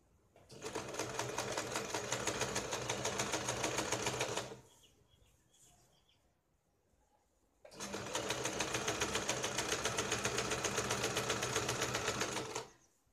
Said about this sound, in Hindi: पहले हम यहाँ पे सीधी सिलाई लगाते हैं